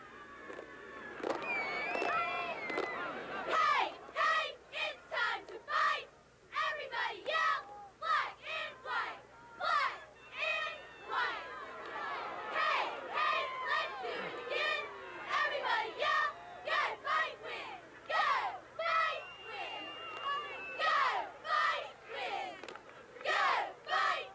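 Socastee Braves fans at a high school football playoff game chanting and cheering in rhythmic bursts, voices rising and falling in repeated shouts over a faint background.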